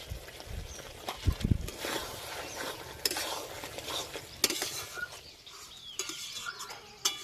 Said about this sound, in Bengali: মশলার সঙ্গে পটল খুব ভালো করে কষে নিয়েছি